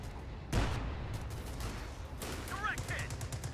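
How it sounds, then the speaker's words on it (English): An anti-tank gun fires in the Company of Heroes 2 war game, a sharp heavy blast at about half a second followed by a rumbling tail, with distant gunfire and brief voices later. "Anti-tank gun, ready for action."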